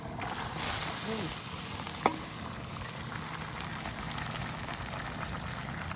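Salt mackerel custard simmering thick in a pot over a fire that runs a bit high, a steady soft bubbling hiss with a single sharp tick near the start.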